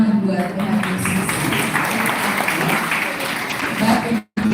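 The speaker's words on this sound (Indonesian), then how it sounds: "Kita berikan tepuk tangan buat Tuhan Yesus." A congregation at a Christmas church gathering claps for Jesus, a moderately loud wash of applause that runs several seconds, with voices mixed in and a brief cut near the end.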